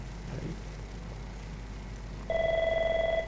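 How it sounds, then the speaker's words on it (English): Partway through a live stream, a telephone begins ringing with a steady, moderately loud electronic trill over a low background hum. "we have to answer the phone."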